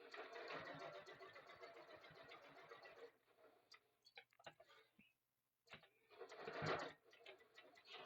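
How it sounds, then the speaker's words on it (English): Sewing machine stitching webbing for a bum bag in a fast steady whir, stopping midway for a few clicks and a brief silence, then running again close up. "whatever your standard stitch length is set on your sewing machine."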